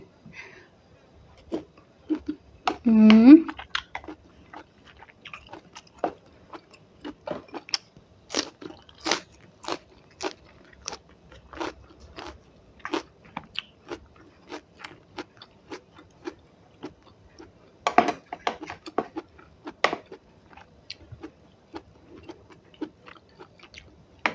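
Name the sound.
crunchy food being chewed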